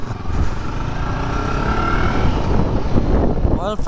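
A Voge 525RR motorcycle rides along with a steady, continuous engine and road rumble that holds level throughout, mixed with wind noise and faint talk.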